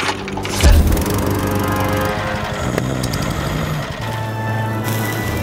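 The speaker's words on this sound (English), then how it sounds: "Ryobi's 36-volt HP battery mower." A Ryobi 36-volt brushless battery lawn mower runs close by with a steady, even motor whir. Its tone shifts slightly as the mower works, with no voices over it.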